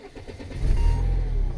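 A car engine cranks and starts up, settling into a steady, loud idle with a low rumble; the car is in use for key programming work.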